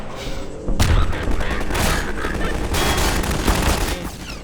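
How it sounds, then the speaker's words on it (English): A mortar fires from a bank roof in Half-Life 2, loud booming blasts and rattling gunfire filling the scene continuously, with a voice speaking faintly underneath. "Bank-roof mortar."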